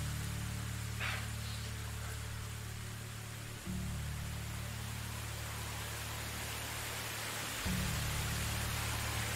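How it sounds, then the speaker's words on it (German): Steady, loud rain hiss in the medieval village game Medieval Dynasty, a constant broadband wash with a low droning hum beneath it, no voices. "Boah, der Regen ist schon laut, ne?"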